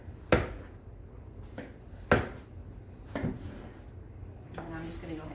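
A kitchen knife slices through a watermelon on a cutting board, giving several sharp, close thunks at uneven intervals with quieter scraping and rustling between them.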